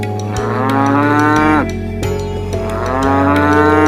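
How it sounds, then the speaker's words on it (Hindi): A cow moos loudly in long, drawn-out calls, two or three lowing bellows close by with barely a pause between them, alone without talk. "जैसे ही आदमी गाय को लेकर चलने लगा, गाय जोर जोर से रंभाने लगी।"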